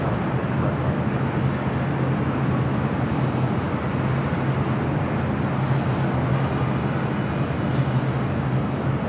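An Alaska Airlines jet takes off from runway 6 left at LAX, giving a steady, loud broadband engine roar that holds evenly throughout with no talk.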